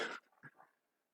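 A dog gives a single short bark in the background, followed by a faint brief whine that trails off quickly into quiet.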